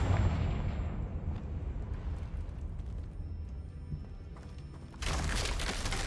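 A fire-spell explosion in the video game Hogwarts Legacy, a dense rumbling blast with crackling fire that lingers and then surges again near the end, loud and filling the mix without any talk.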